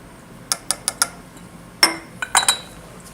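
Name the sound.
solvent poured into a glass round bottom flask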